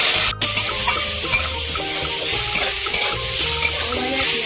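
Boiled greens stir-fried with fried chillies in a pan: a loud, close, continuous sizzle with steady stirring scrapes and no talking.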